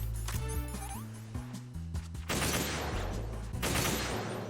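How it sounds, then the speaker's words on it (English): PSG-1 sniper rifle firing in Metal Gear Solid 2 VR Missions on PS3, a few sharp shots punctuating game music and effects, followed by a dense burst of noisy crackle toward the end. "So now we're on to probably my least favorite, which is the sniper rifle, PSG-1."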